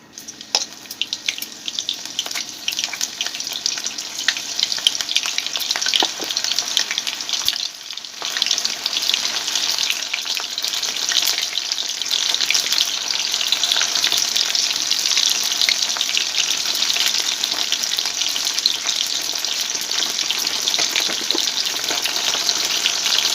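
Mushrooms deep frying in hot oil for a restaurant-style chilli mushroom dish, a loud continuous close bubbling sizzle that holds steady throughout with no talking.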